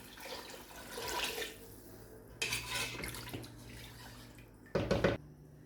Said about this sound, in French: Je rajoute l'eau pour faire cuire